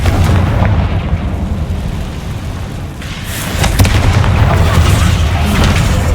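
A Confringo fire spell erupts in Hogwarts Legacy, blasting apart a barricade: a dense, rumbling burst that swells again midway, loud and continuous over low game ambience with no clear separate impacts.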